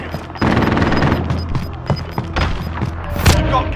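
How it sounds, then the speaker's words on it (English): A sentry gun fires in Call of Duty Modern Warfare amid dense battle noise, with rapid shots, thumps and booms mixed with other in-game sounds. "Enemy sentry gun active."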